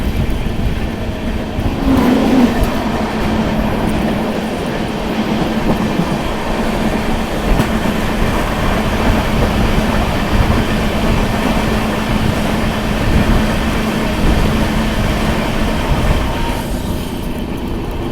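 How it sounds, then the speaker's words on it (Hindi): The Ranchi Garib Rath Express passes slowly, a loud continuous rumble of rail wheels and carriages with steady clatter heard close by for the whole stretch. "धीरे धीरे रफ्तारों से आती हुई रांची गरीब रथ एक्सप्रेस।"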